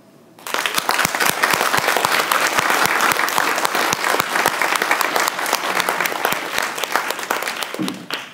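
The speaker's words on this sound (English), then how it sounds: "Please let us give a Wilmington Shawtown Elementary hearty applause to Sergeant First Class Rachel Jermaine Will" An audience at an elementary school Veterans Day ceremony breaks into loud, sustained clapping that starts abruptly and holds for several seconds, then trails off.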